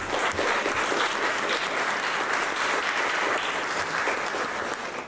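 A crowd at an Immigrant Heritage Month celebration and proclamation event breaks into loud, sustained applause, dense even clapping filling the room without letup.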